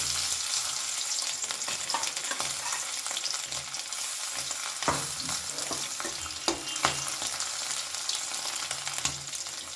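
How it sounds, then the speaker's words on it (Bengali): Small chela fish fry in hot oil with a steady, dense sizzle and crackle that runs the whole time, close and fairly loud, with occasional sharper pops and spatters. "বাকি যে কটা মাছ ছিল সে কটাও আমি এখন ভেজে নেব"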